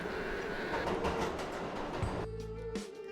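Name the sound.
tram travelling through tunnels, sound effect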